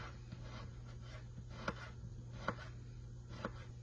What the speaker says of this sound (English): Let's thinly slice these up. Very little, thin slices.